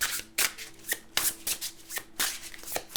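Tarot cards shuffled by hand in a steady run of crisp riffling bursts, close and clear with no talking.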